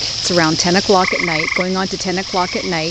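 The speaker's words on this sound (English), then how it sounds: "You can hear the frogs in the background." Frogs croak in a backyard at night, a loud, steady chorus of rhythmic, overlapping croaks close by, while someone talks over them.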